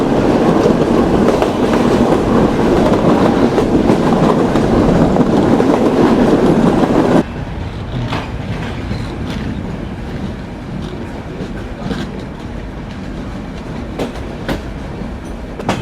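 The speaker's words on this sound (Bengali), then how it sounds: "আমাদের ট্রেন পার করছে সুন্দরপুর স্টেশন" The Benapole Express rolls past Sundarpur station with a loud, steady rumble and clatter, and the roar drops noticeably partway through as the sound becomes quieter and more distant.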